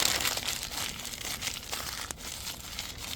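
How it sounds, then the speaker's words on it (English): Newspaper is crumpled and unfolded by hand to make creases for a spray-paint texture, a continuous close crinkling and rustling with a few sharper crackles, no talk. "For newspaper, I tend to do crumple, unfold, crumple, unfold"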